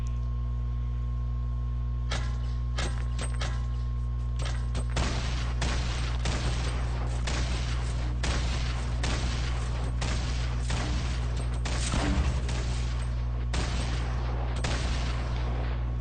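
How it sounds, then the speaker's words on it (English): Rockets explode against a built base in the video game Fortnite, a rapid barrage of sharp booming blasts over a constant low hum, fairly loud, with no talk. "Alright, we're going to send the rockets in now."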